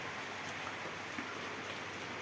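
Heavy morning rain falls steadily, a dense continuous hiss of drops at low, even volume with no voices or other sounds.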